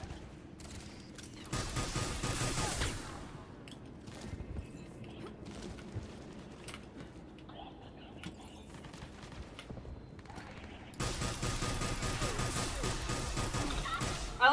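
Gunfire in Mass Effect 3 during a firefight on Thessia, with dense bursts of shots at the start and end and scattered thuds and crashes in between, fairly loud.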